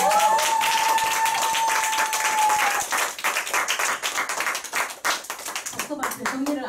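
Audience applause breaks out after a presentation at a group business meeting, dense clapping filling the room from near, with a steady tone at first and talk mixed in toward the end.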